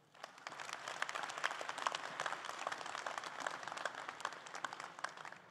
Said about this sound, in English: Please give him a warm Langara applause of welcome for Michael Unger.